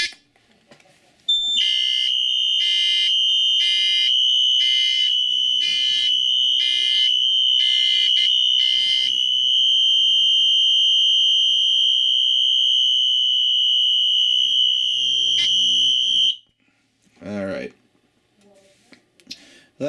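A building fire alarm system sounds during a manual evacuation test: loud, close electronic tones pulse in a rapid repeating pattern, then hold as a continuous tone for several seconds before cutting off abruptly, followed by faint handling noise.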